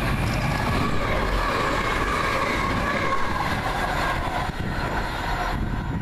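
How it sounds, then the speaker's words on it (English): A TransPennine Express Class 185 diesel unit runs past at Kearsley, a steady loud rumble of wheels and engine with faint rhythmic clatter, fading slightly toward the end. "Transpennine service, think it's from Blackpool North"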